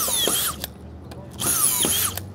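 A power drill driver spins its bit in two short, loud whirring bursts, each rising and settling, separated by a quiet pause with faint clicks.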